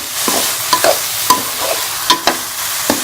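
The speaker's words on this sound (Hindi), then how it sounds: "इसको भी घी में अच्छी तरह से भून लूँगी" A carrot mixture for barfi roasting in ghee while a spoon scrapes the pan, giving a loud, sharp stir every second or so over a soft sizzle, with no talking.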